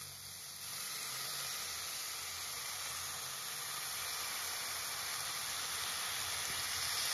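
Chana dal (split chickpeas) tipped into hot tempering oil for a no-onion, no-garlic usal, giving a steady, even sizzle and hiss that holds at the same level throughout, with no voices.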